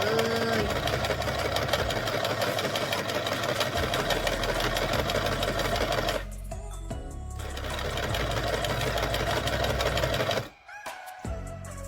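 A sewing machine zigzag-stitching a long skirt runs in a steady, loud mechanical whir with rapid needle rhythm. It pauses briefly midway, resumes, and stops near the end.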